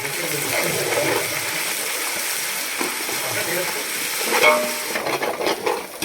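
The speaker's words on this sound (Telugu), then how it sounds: "అల్లం పేస్ట్ కూడా జింజర్ గార్లిక్ పేస్ట్ కూడా యాడ్ చేస్తున్నాను" Ginger garlic paste frying for mutton biryani, a steady close sizzle with stirring scrapes throughout and a brief louder burst near the end, under faint background voice.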